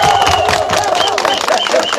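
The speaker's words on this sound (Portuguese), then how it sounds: "Peço uma salva de palmas para todos os advogados." Crowd at a Renamo political rally in Mozambique applauds and cheers for lawyers, a loud, continuous wash of clapping and voices that fills the space for the full two seconds.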